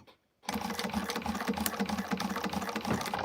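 A sewing machine basting a vinyl piece shut, its needle chattering in a fast, steady rhythm from near, starting suddenly after a short silence and running continuously.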